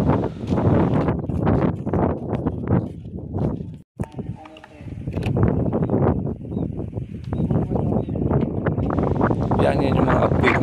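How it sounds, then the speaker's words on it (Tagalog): Strong wind buffets the microphone outdoors at a hilltop statue site in Lobo, Batangas, a constant loud roar under someone speaking throughout, briefly cutting out midway. "mainit dito at saka lakas ang hangin"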